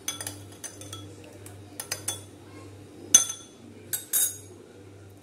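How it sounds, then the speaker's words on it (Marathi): A spoon scrapes and clinks against a small bowl while yogurt is mixed, with irregular taps and scrapes over a steady low hum, no talking. "हे चांगलं मिक्स करून घ्यायचं"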